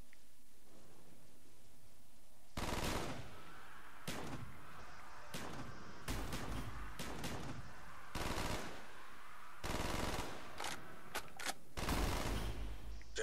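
Gunshots ring out in a Minecraft game as loud, close bursts of rapid fire, repeated several times over a constant background hiss.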